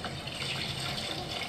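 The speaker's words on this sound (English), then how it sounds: "they're putting some water in" Water pours steadily into a container for food preparation, a continuous splashing gush that stays fairly close and even from start to end, with no voices over it.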